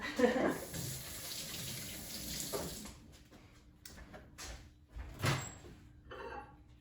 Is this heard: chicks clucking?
no